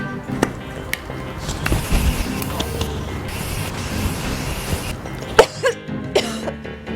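Several sharp coughs ring out, some harsh and throaty, scattered between stretches of muffled background noise.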